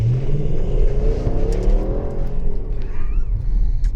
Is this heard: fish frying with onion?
no